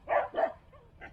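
A puppy aboard an old budget sailboat gives two quick, close yappy barks followed by a softer whimper and a short final yip.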